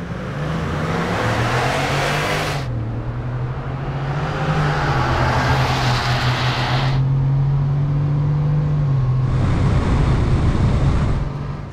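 A tuned Ford F-150 pickup with a 5.0L V8 launches down a drag strip, its engine droning loud and steady with surges as it runs through the gears, no talking over it.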